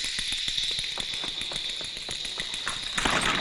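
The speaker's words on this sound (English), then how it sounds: "This is the sound of little hammers pounding the feet of the mistress who won tonight's competition." Little hammers pound a woman's feet in a scene from the film Raise the Red Lantern. The rapid, steady tapping is crisp and sits over a bright, hissing background that grows louder near the end.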